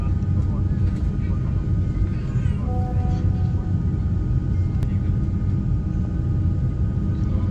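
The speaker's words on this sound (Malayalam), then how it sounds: "നമ്മൾ ഫ്ലൈറ്റ് റൺവേയിൽ എത്തിയിട്ടുണ്ട്." An Air India Express airplane sits on the runway at Calicut Airport, its engines giving off a steady, loud rumble and hum that holds for the whole stretch. Faint talk is mixed in.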